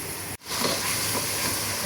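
Spices tipped onto browned onions frying in a pan, giving a loud, continuous close-up hiss and sizzle broken only by a brief gap near the start.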